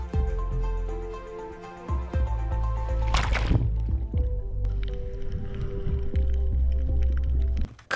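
Music muffled by an underwater low-pass audio effect, with dull sustained bass tones and watery bubbling; midway a brief splash breaks through, then the music continues muffled until it clears at the end.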